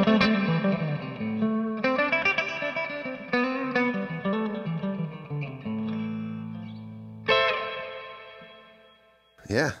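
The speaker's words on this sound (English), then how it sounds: "the third sound that I have set here on the Morningstar is just like a big reverb that I can kind of control how big it is" An electric guitar plays through a big, adjustable reverb effect on a pedalboard switched by a Morningstar controller, with sustained notes and chords washing out into long decaying tails.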